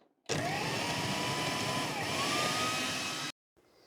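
A blender whirs through banana and oat pancake batter, a loud, steady motor roar that switches on abruptly, holds for about three seconds with a slight pitch shift midway, then cuts off.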